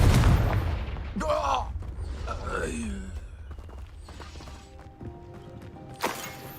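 A spell explosion in Hogwarts Legacy opens with a loud, booming blast that fades into crackling debris and magical whooshes, then a fainter impact follows. A voice is heard in the clip.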